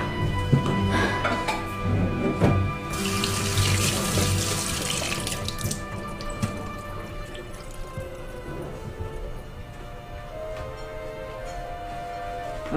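Water running from a tap into a glass in a Filipino indie romance film scene, with a steady close pour and a louder rushing burst of flow mixed with faint clatter and room noise.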